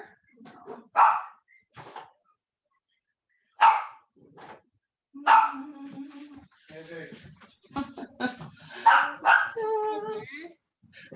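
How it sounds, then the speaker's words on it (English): Puppies bark and yip in a few short bursts, fairly close, mixed in with someone talking in a home kitchen during a cooking session. "I have puppies too, and they're ready to go outside and play"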